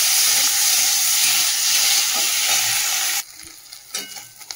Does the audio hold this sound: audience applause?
no